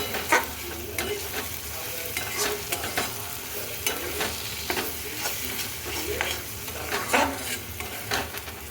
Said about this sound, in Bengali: এবার এটা দিয়ে আর একটু কষাবো